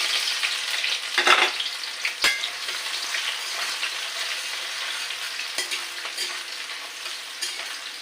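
Onions frying in a shallow layer of mustard oil for a mutton curry, giving a steady close sizzle with a few stirring scrapes and spatula knocks, no voices.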